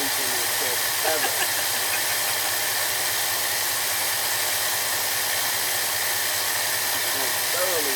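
A 1969 Ford F-250 engine fitted with a rebuilt Autolite 2100 carburetor runs at a steady, smooth idle, a continuous close hum with hiss and no voices.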